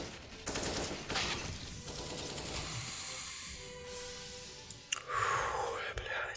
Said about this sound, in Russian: По нему открывает огонь, он вообще не понимает, что происходит.